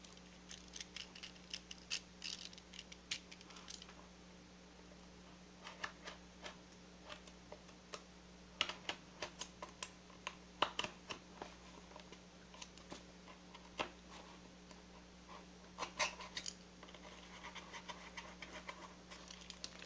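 A utility knife cuts through cardboard while a toy limousine is being built, giving faint, irregular scratchy ticks and short scraping strokes against a low steady hum.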